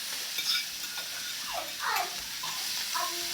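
Peppers and onions sizzling in a buttered pan, a steady frying hiss with soft stirring scrapes, close and fairly quiet, with no talking.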